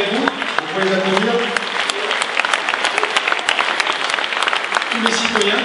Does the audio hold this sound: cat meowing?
no